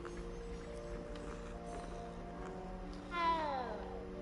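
A cat meows once near the end, a short rising-then-falling cry over a quiet, steady ambient music bed inside the Hogwarts Mystery video game.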